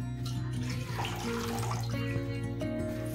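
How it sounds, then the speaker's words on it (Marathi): Water pours into a kadhai in a steady, close stream that gushes and splashes against the metal, continuous and fairly loud, with household hum behind it. "कढाईमध्ये जरासं पाणी टाकू, थोडं गरम होऊ देऊ।"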